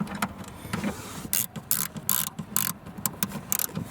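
Screws being driven back into the cabin air filter cover of a Volvo V, a series of short ratcheting, clicking mechanical bursts up close with brief pauses between turns.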